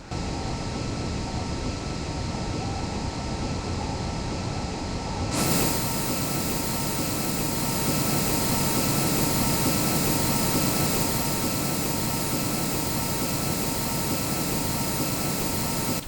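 A small airplane, flown in a flight simulator or game, roars steadily through takeoff and climb; the engine holds a dense, continuous drone that surges louder after about five seconds and stays strong with no speech.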